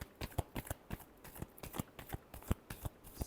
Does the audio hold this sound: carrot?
no